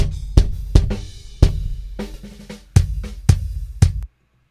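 Raw, unmixed drum kit playing a sparse pattern of heavy booming hits with ringing cymbal wash between them, loud and close, stopping abruptly into silence.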